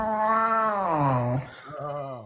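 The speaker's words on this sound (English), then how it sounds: "Тоже взрослый кот." An adult cat gives a long, drawn-out, wavering meow, loud and close, followed by a shorter second meow.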